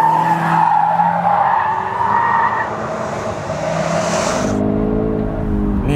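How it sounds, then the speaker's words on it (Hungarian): Tires of a 2024 BMW M5 Touring skid on a race track, a loud sustained squeal that wavers and fades as the car passes, with engine drone underneath. "Némi gumiszármazékot lekentünk a talajra."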